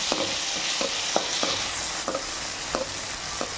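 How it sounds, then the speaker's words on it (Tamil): Tomatoes sautéing in a pan for kongura thokku, a continuous close sizzle punctuated by regular scraping stirs of a spoon against the pan. "நல்லா வதக்கணும் தக்காளியை"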